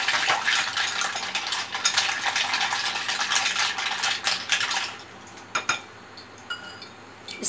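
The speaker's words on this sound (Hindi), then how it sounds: "अब इसके अंदर मैं डाल रही हूँ बर्फ़, ये बर्फ़ के पीसेज हैं" Ice pieces dropped into a bowl of beaten egg and stirred for chicken broast batter, giving a steady scraping, clinking mix that drops off around five seconds into a few scattered light clicks.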